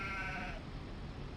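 Sheep in Farming Simulator 25 bleat once in a short wavering call at moderate volume over a steady farm-game background, fading after the first half second.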